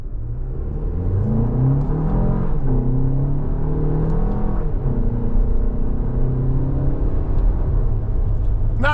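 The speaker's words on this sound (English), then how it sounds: "I'm going to move the gear shift over to the left, go to manual mode, and we'll shift with the gear shift like we have a 6-speed." The engine of a 2025 Toyota Grand Highlander XLE AWD SUV hums and rises in pitch through several manually selected gear changes, a continuous steady drone from inside the cabin with the revs climbing and dropping between shifts.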